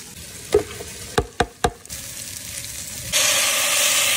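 Onions and spices frying in olive oil and homemade ghee, several sharp clatters of a stirring spoon against the pot before the sizzle swells into a loud, steady hiss.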